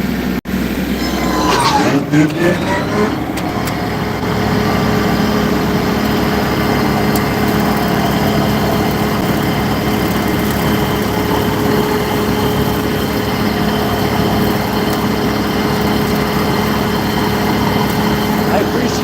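A tractor engine runs steadily and loud, rising after a brief start and then holding a constant drone as the PTO is engaged, with a person talking briefly near the beginning.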